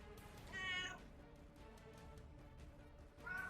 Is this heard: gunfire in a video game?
no